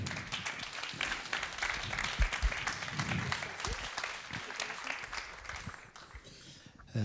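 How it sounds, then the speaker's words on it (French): An audience at the Web Program Festival awards ceremony applauds prize winners with sustained, dense clapping and a few scattered thumps. "Vous pouvez les applaudir ?"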